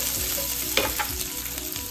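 Crushed chilli thecha is stirred into spicy Khandeshi brinjal bharit in a hot pan, a steady close sizzle broken by a couple of brief spatula clinks and scrapes, with no voices.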